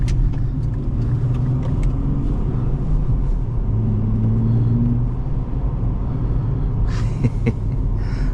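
A 2024 Nissan Z engine with a six-speed manual drones steadily with brief rises and dips in pitch as it is rev-matched between gear changes, heard from inside the car.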